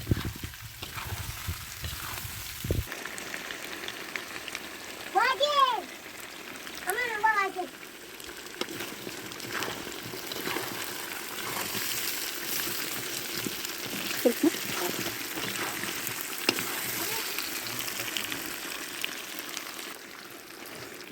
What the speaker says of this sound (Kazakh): Картошканы да жақсылап қуырамыз.